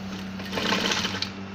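A sewing machine stitches a senator top along a 1/4 inch seam, giving a steady, close, continuous mechanical whir for the whole short stretch.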